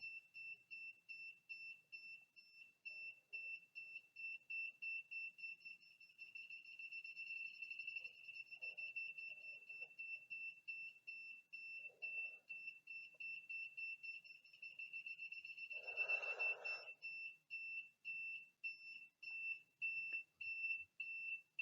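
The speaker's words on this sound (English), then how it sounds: "if you move far away from the distance sensor, the frequency of the beep is decreasing" A small electronic buzzer driven by an HC-SR04 ultrasonic distance sensor on a Raspberry Pi beeps in rapid repetition at a steady high pitch, the beep rate speeding up and slowing down, fairly faint with no talking.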